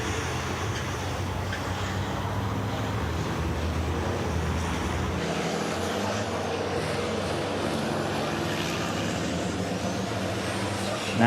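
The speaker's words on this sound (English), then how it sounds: "And you can hear them again scrabbling around for grip." Roaring racing trucks at the 2021 FIA European Truck Racing Championship at Le Mans, a dense, loud wash of engine and tyre noise as they struggle for grip, continuous throughout without speech.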